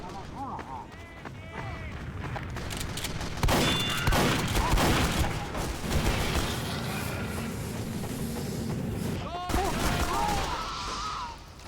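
Rapid, dense bursts of shotgun and gunfire from a video game demo, sustained and loud with sporadic heavier blasts, while a person talks over the action throughout.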